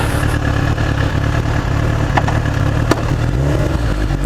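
Suzuki GSX-R 1000 K5 motorcycle engine idling steadily and close by, a continuous low rumble that holds even throughout with only slight flutters.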